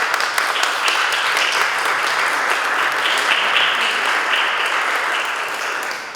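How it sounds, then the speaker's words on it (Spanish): An audience at a book presentation applauds, dense sustained clapping from a room full of people, loud and steady before tapering slightly at the end. "Un fuerte aplauso para ellos"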